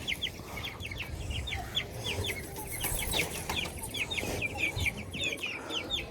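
Chickens clucking repeatedly in quick, chirpy bursts, fairly close, over a low background rumble and scattered rustling.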